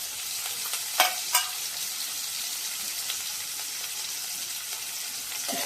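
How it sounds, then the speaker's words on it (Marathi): Thickly chopped onion dropped into hot tempering oil for a raw tomato curry, a steady close sizzle with a couple of sharp crackles or stirring clinks early on. "त्यानंतर आधी पहिला कांदा टाकणार फोडणीला."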